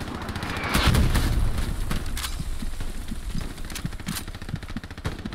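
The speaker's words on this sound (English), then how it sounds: "Machine gunner in the hedgerow." Machine gun fire rattles across a World War II battlefield in Hell Let Loose, with dense bursts of sharp cracks and distant shots layered over a rumbling background, continuous for several seconds.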